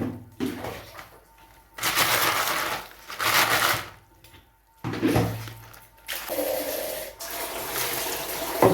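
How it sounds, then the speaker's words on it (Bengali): Cut crabs are washed in water in bursts of splashing and swishing, each separated by short quiet gaps, close and fairly loud. "এখন আমি কাঁকড়াগুলোকে ভালো করে ধুয়ে নেব।"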